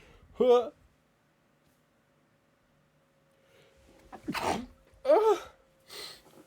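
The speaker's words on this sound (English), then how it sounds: "I'm about to sneeze." One sharp sneeze near the start, then a long quiet stretch with a faint hum, and a few short vocal bursts near the end.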